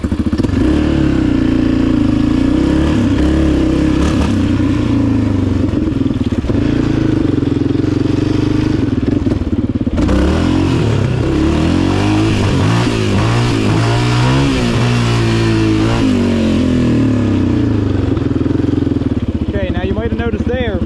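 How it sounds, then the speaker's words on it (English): Motorcycle doing a first-gear wheelie, engine revving high with rising and falling pitch sweeps, loud and sustained, with someone talking intermittently over it. "Notice there, the bike was revving really high."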